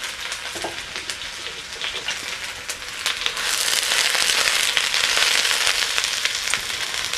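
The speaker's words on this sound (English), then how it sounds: "I'm going to get them going here, cooking in the pan" Vegetables sizzle in a sauté pan for a Japanese dish, a steady crackling fry that swells louder partway through and keeps going with no voices.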